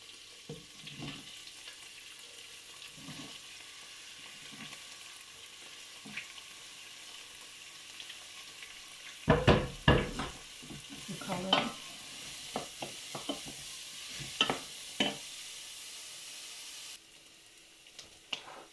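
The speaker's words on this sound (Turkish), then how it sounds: "Soğanımız yumuşayana kadar kavrun." Onions fry in a couple of spoonfuls of oil in a pan. A soft, steady sizzle runs under irregular scraping stirs, with a burst of louder stirring midway.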